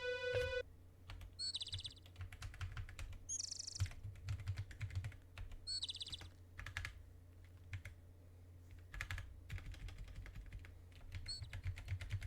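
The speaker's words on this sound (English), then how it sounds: "let's add a bird tweet" A short synthesized bird-tweet effect from music software chirps several times over steady computer keyboard typing and mouse clicks.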